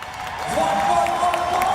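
A crowd cheering at a freestyle motocross jump show in Düsseldorf, a broad sustained roar with applause, rising and holding loud, with a voice over it.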